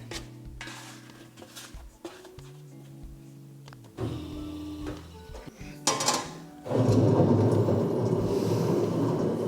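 A bakery dough mixer runs with a low motor hum while making organic cottage bread dough. Its tone and load shift several times with brief knocks, then it grows louder and rougher toward the end.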